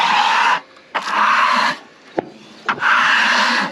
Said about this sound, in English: Go ahead and scrape it, Austin